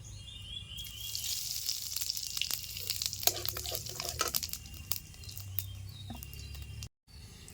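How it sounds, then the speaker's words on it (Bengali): Whole cumin seeds crackle and sizzle in hot oil for tempering, a steady crisp frying hiss with scattered pops and clicks, close and fairly quiet, cutting out briefly near the end. "ফোড়নে দিয়ে দিচ্ছি গোটা জিরা"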